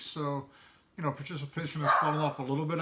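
A pet dog barks in several quick yips and bow-wows close by, overlapping someone talking throughout.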